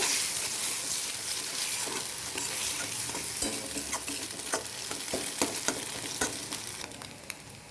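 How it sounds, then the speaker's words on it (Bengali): A steady hiss of an egg frying in a pan with intermittent scraping and tapping of a spatula as it is stirred, no voices. "এবার ডিমটাকে ভেজে নেব।"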